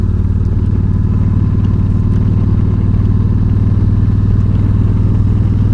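A Yamaha V Star 1300 V-twin motorcycle rumbles steadily on back roads, its deep loud pulsing engine note close and continuous with no talk.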